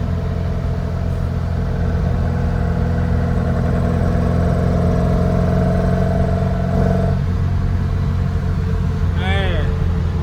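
A 1957 Volkswagen Beetle with a swapped-in 1800cc engine cruising in fourth gear, a loud, steady air-cooled drone and road rumble heard from inside, with a brief voice near the end.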